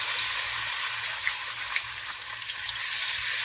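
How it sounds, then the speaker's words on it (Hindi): Ground onions frying with ginger garlic paste in a pan for egg brain masala, a continuous hissing sizzle with faint bubbling and occasional stirring scrapes, steady and moderately close. "अब प्याज को थोड़ा भून ले ताकि इसकी महक खत्म हो जाए और ये ब्राउन हो जाए।"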